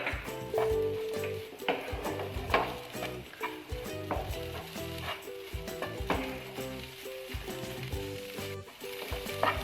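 Bread pathiri filling stirred in a hot pan, a continuous sizzle under repeated clinking, scraping spoon strokes against the pan, close and steady with no talking.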